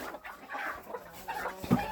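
Brooding hens on a farm cluck softly and steadily at close range, with a sharper squawk near the end.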